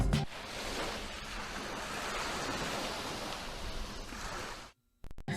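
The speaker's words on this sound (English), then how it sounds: "The audio in this logo is the waves crashing" Waves crash in the WPBT South Florida PBS television logo sound, a loud swelling surf roar that rises, holds steadily, then cuts off abruptly before a brief return near the end.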